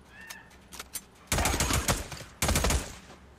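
Video game gunfire from Days Gone, with two bursts of rapid automatic fire separated by a short pause, loud and close, after a few faint shots and clicks.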